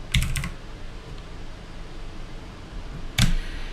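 Typing on a computer keyboard, a quick burst of key clicks at the start, a quiet gap with faint fan hum, then another sharp cluster of keystrokes near the end, with no talking.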